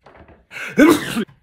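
A single sneeze, preceded by a short intake of breath, bursts out close and loud in an indoor setting, lasting well under a second.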